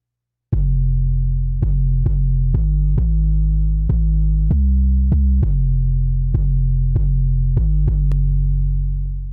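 Deep, booming 808 bass hits in a loose repeating pattern, each long sustained note gliding into the next, loud and alone.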